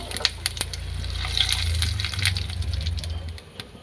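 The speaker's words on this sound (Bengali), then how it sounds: "ফোড়নে দিয়ে দেবো গোটা জিরে" Whole cumin seeds and bay leaf sizzle in hot oil for a potato dum, a steady close frying hiss with small crackles that swells and then eases off toward the end.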